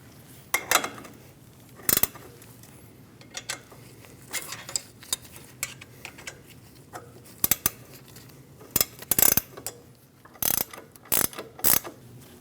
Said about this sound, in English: We're going to hold the stud while we use a 18mm wrench and we snug the nut down.